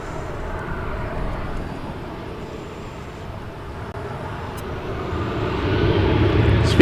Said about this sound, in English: American 2988 are now to depart from only 18 left.